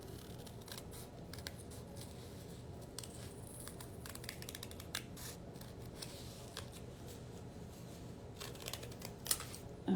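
Scissors snip leaves for a craft garland, giving quick, crisp cuts in irregular clusters close up over a soft rustling background, with one sharper snip near the end and no talking.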